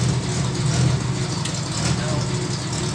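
A 1961 Bombardier narrow gauge snow vehicle engine idles steadily and close by, a low continuous rumble with a faint hum and no clear start-up burst.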